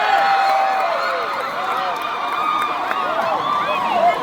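An audience at a live concert in Makassar claps and cheers for the bassist in a steady dense roar of applause and shouts, loud and sustained, with an announcer's voice over the crowd.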